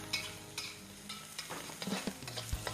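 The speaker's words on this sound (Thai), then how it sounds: "มีพริกแห้งพริกสดกระเทียมค่ะโขลกพอหยาบๆแล้วก็ผัดให้เครื่องหอมค่ะ" Pounded dried chili, fresh chili and garlic paste stir-fried over medium heat for a Thai pad cha with dried fish, giving a low steady sizzle broken by several scraping and clacking stirs from a utensil against the pan.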